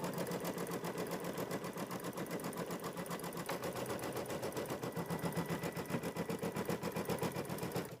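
A sewing machine stitching quilt background fabric in place, with a rapid, steady, rhythmic clatter heard close and continuous throughout.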